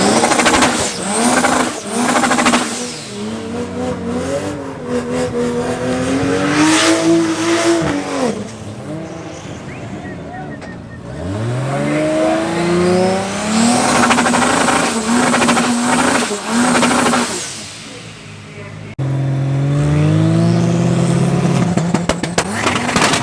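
Race cars, among them a Toyota Corolla, at Tarlton International Raceway during a regional event: engines rev and climb through gears in long sweeping pitch rises, passing and fading, with some tire noise, loud and close without talk.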